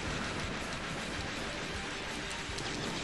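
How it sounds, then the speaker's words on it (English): Rumbling, clattering rail noise of a subway car charging in as an attack in the Metal Slug 2 video game, a loud, dense, continuous roar with rhythmic clicks that fills the whole moment. "You're trying to kill me with a subway car?"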